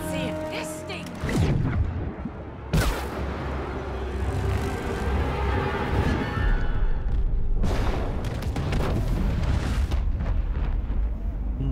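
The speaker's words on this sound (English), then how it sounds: "Explosion!" Booming explosions from the video game It Takes Two: a sharp blast followed by rumbling debris and a second heavy burst later, with players talking excitedly over the game audio.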